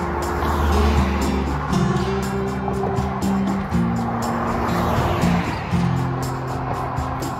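Cars passing on a road near a hiking trailhead: a continuous loud engine drone with shifting motor tones, as vehicles rush by close at hand.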